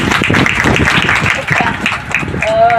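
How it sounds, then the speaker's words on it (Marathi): Applause from an audience at a village Women's Day sports and cultural event, loud, dense clapping filling the whole moment at close range. "त्यांच्यासाठी एकदा जोरात टाळ्या वाजवा"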